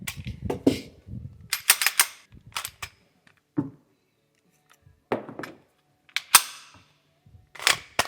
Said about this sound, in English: we're gonna clear the firearm once again.